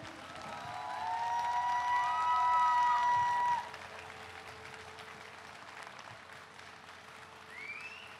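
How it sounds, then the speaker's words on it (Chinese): Warm applause and a few cheers from an outdoor jazz festival audience for a quartet, swelling for a few seconds then cutting off abruptly, with a lingering tonal whine and faint crowd noise after. "给我们再次热情的掌声"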